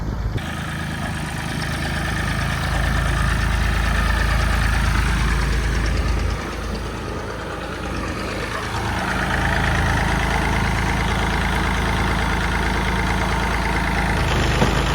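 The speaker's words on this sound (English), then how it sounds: "I've got a fantastic little tractor just coming out this shed" A small tractor engine idles steadily nearby on a farm in Wales with a low, chugging rumble that shifts slightly partway through.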